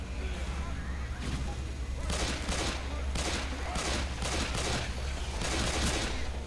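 A mounted gun fires in the video game Left 4 Dead 2, in dense rapid bursts of overlapping shots over a constant low game rumble.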